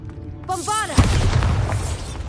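In Hogwarts Legacy, a character shouts a spell and the Bombarda explosion follows as one deep, loud boom with a rumbling tail.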